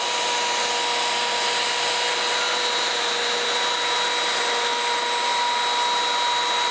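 A router makes a half inch wide, 3/8 deep cut in wood at a slowed speed with dust collection running, a loud, steady whine with an even whooshing roar that holds unbroken throughout.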